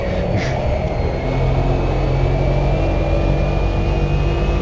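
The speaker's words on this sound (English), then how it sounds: "It pulls nice, but it sounds... We're gonna call you Tweety Bird. Listen to that. Good old whistle." Turbocharged Mercedes engine under load, a constant close roar with a clear high-pitched turbo whistle held steadily over it throughout.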